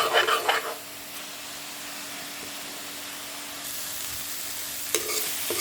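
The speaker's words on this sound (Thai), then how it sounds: "เราคั่วหมูให้น้ำแห้งเลยนะครับ" Pork stir-fries in a pan for a Thai gaeng om curry, cooked until the liquid dries off. A brief clatter opens into a steady, close sizzle that holds for several seconds, with a faint clink near the end.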